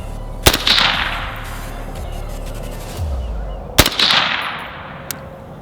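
Two sharp suppressed 5.56 rifle shots through a Dillon suppressor, a few seconds apart, each a loud crack trailing into a brief ringing decay, with faint background noise between.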